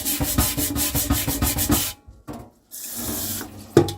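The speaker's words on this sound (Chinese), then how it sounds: "像这种砂纸的话，就是说，因为它非常利啊，所以说你在擦的时候不要太大力啊" Sandpaper scrubs old, baked-on grime from a pot in quick rhythmic back-and-forth strokes, loud and close, then pauses briefly before a softer stretch of rubbing ends with a sharp knock.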